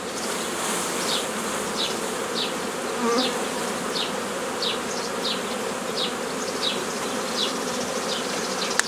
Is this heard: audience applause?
no